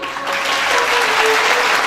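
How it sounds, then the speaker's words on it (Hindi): A church congregation at an evangelical service claps steadily and densely from start to finish, with a faint sustained tone running underneath. "आज बहुतों को खुदा नई बरकतें देने को है। ईमान से ताली बजाएं।"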